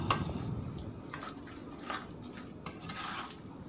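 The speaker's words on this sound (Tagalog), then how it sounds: "Haluin na siya mabuti." A spoon stirs food in a pot, giving soft scraping and light clinks of utensil against metal, a few brief taps spaced irregularly over a quiet kitchen background.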